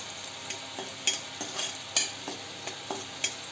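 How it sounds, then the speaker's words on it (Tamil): Vegetables frying in a pan as cooking continues, a soft steady sizzle broken by a regular series of sharp clicks and scrapes from stirring, close and fairly quiet, with no voices. "நல்லா கொஞ்சம் ஃப்ரை ஆகட்டும்."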